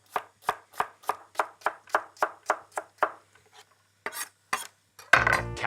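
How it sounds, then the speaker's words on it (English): A kitchen knife dicing carrot cut into strips on a board, a rapid run of about a dozen sharp, regular chops close up, then a pause and some scraping and clattering as the pieces are moved. "Again, just into strips and a quick dice."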